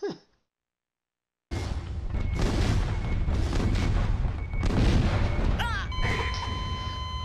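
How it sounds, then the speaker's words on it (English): Grenade explosion in the first-person shooter Alien Resurrection: after a short silence a loud, close blast erupts and rumbles on for several seconds with scattered crackles and bright tonal game effects near the end. "I just ran over and sat on my own grenade."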